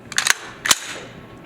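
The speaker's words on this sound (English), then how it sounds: "As I am pulling the trigger straight to the rear without disturbing the sights, the weapon will discharge." A rifle discharging and cycling during marksmanship firing: a quick cluster of sharp cracking reports followed by a second single sharp report, with no talk.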